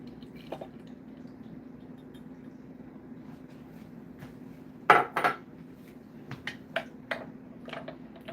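Summer refresher drink ingredients are mixed in a container, heard as a few sharp clinks and knocks of a utensil against the vessel over a quiet steady hum.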